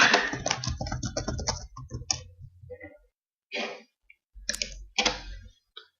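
Quick bursts of clicking keystrokes as a password is typed on a computer keyboard, spaced out in short clusters with pauses between them, following a stretch of talking at the start.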